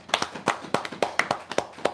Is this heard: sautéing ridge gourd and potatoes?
no